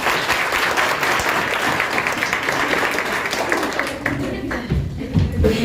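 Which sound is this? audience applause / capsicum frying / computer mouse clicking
audience applause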